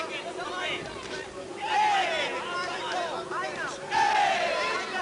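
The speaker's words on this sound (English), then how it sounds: "And the crowd roaring them on" Kickboxing match crowd roaring and cheering, a dense continuous mass of shouting voices with surging whoops and rising yells, loud and close throughout.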